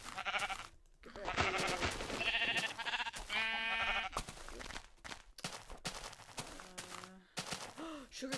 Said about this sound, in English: Ah, two sheep! No, three sheep.